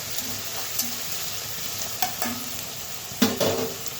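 Tomato and onion frying in a pan, a steady low sizzle with occasional stirring scrapes and clinks of a utensil against the pan, close by and with no voices.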